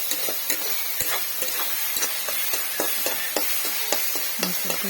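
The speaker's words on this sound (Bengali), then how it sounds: "সবগুলি আবারও ভালোভাবে নেড়ে নেব।" Tomatoes being stirred in a pan with salt while cooking, a busy run of repeated spoon scrapes and taps over a constant bright sizzle, close and fairly loud, with no talking.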